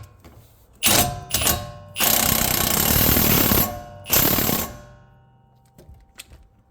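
Power tool tightening a cam bolt during a camber adjustment on a 2008 vehicle, heard as loud mechanical hammering bursts: two short ones, a long sustained run, then another burst before trailing off into faint clicks.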